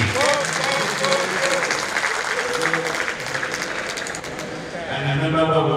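Dense clapping from an audience at a medical and health workers union delegate conference, a steady wash of many hands running throughout while a voice talks over it.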